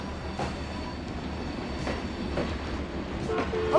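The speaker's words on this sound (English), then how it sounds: "I love hearing the default Trains 2006 car sounds." Default Trainz 2006 train car sounds in a railway simulation game: a steady rolling rumble with faint periodic clicks of wheels over rail joints, continuous and moderately loud, rising slightly at the end.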